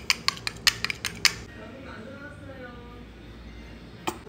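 A utensil clinks sharply against a dish about eight times in quick succession as mayo and sriracha are stirred into spicy mayo, then goes quiet against a low room hum.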